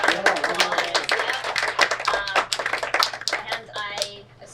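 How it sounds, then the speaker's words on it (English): Scattered clapping from a small audience at an induction ceremony, uneven and fairly close, with voices talking and calling out over the claps. "Let's give them one more round of applause."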